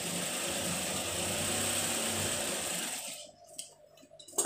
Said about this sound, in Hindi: एक सिलाई यहाँ पर वो लगा लेते हैं